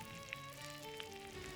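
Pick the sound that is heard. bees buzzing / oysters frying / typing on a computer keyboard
oysters frying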